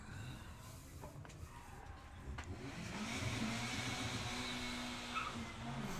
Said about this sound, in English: Corsa C, I think, coming up in the slick tricks lane.